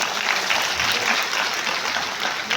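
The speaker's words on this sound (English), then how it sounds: "let's give him a big round of applause" A graduation audience applauds a speaker after his congratulations, a dense, steady crowd clapping that holds at an even level throughout.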